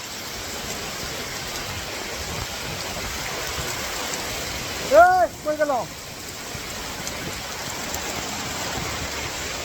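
Heavy rain pours at Kuakata as a dense, continuous hiss. A voice speaks briefly midway.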